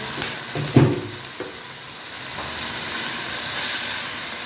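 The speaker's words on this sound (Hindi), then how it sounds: "फ्राई हो रहा है, चिकन पक रहा है।" Chicken fries in a pan with a steady, loud hissing sizzle that builds and holds, with a couple of knocks from a utensil early on and no talking.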